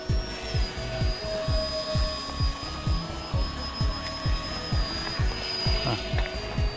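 A Defiant Wings Renegade, a twin-motor EPP foam RC airplane flown in an aerial dogfight, whines steadily overhead, its motor tone rising and falling in a regular pulsing pattern over outdoor background noise.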